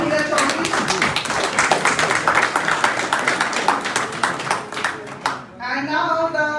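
Dense, loud applause and clapping from a convention audience welcoming a guest at the ANTA 6th General Convention. It rolls steadily for several seconds, then fades as a voice begins speaking near the end.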